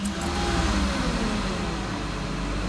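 A 2006 Mazda MPV engine held at raised revs by a foot on the throttle, a steady loud rumbling drone that stays even throughout.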